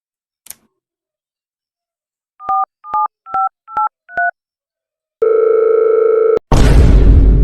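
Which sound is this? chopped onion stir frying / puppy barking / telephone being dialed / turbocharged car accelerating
telephone being dialed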